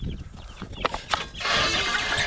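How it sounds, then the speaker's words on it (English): A flock of mixed breeds of home-hatched homestead chickens clucks with a few short, close calls and then settles into a brief rustling bustle, with no talking. "These are all those chickens that we hatched, and they're all different kinds of chickens."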